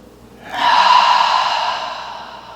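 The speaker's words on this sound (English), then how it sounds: "We'll take 3 unified breaths. Inhale, open mouth, exhale." A deep breath through an open mouth during a yoga session: a single long, airy exhale rises sharply, holds for about a second and fades gently, heard up close and alone.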